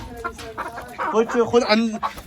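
Chickens cluck and murmur close by on a farm as they are put away for the night, a busy run of short overlapping clucks and calls, with some voices mixed in.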